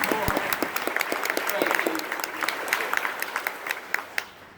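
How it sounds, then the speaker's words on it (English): A crowd applauds at a military retirement ceremony for an Army lieutenant general, steady dense clapping with sharper individual claps standing out, tapering toward the end. "Yes, let's give them a round of applause."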